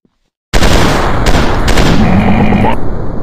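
Dense, loud automatic gunfire from a commando first-person shooter game erupts after a brief silence. It continues as a sustained rattling burst for about three seconds.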